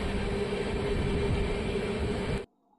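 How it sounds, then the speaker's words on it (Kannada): A cargo goods train passes close by as a loud, steady rumbling roar that cuts off abruptly near the end, leaving near silence. "cargo train"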